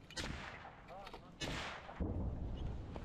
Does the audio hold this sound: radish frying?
no